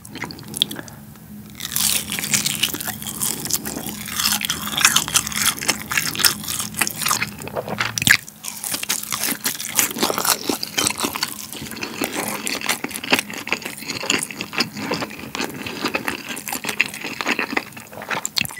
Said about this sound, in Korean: 좀 바짝 구운 거 먹어볼게요.